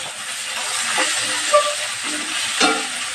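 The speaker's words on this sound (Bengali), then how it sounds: "পেঁয়াজ রসুন আর কাঁচা লঙ্কাটাকে প্রথমে ভালো করে ভেজে নিতে হবে" Onion, garlic and green chilli fry in a wok with a continuous close hiss and sizzle, with a few faint knocks from stirring.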